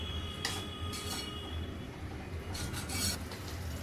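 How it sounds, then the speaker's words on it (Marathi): A spoon scrapes and stirs salted mustard greens for sarson ka saag in a pan, giving a few short rasping strokes over a low background rumble. "हलवून घेऊया चांगले."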